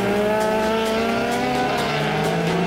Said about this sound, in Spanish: Este es el momento en que regresaban los autos a la pista